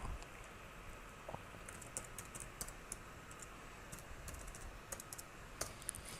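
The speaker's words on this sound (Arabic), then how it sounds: "نكتب كلمة السر بتاعة الراوتر" A router password typed on a computer keyboard, with rapid light key clicks in bursts over a low background hiss, close and fairly faint.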